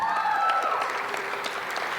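An audience at a Capitol advocacy day claps throughout, a dense patter of applause that fades slightly toward the end, with a voice briefly audible under it.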